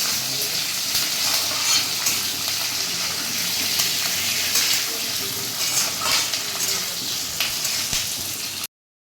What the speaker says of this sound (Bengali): এবার দিয়ে দিচ্ছি চিরা কাঁচা লঙ্কা আর কারি পাতা। এগুলো সবগুলো একসঙ্গে একটু ভেজে নেব।